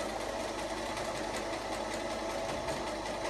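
A sewing machine runs in one steady, even whir while stitching the back seam of a plush toy, close and continuous with no talk.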